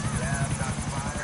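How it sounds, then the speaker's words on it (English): A helicopter in GTA 4 multiplayer gives off a loud, close, steady rotor thrum with rhythmic low beating that carries on without a break through the brief stretch. "And I hit the cop car with my helicopter."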